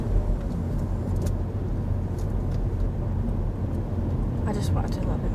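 A car engine runs steadily through a gear change during a driving lesson, a continuous close rumble with faint voices in the cabin.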